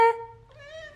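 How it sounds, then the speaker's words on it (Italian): A talkative house cat meows up close, a short bright cry followed by a longer rising and falling meow, alone and clear. "Sei un gatto chiacchierone?"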